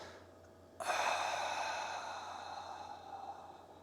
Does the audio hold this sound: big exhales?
yes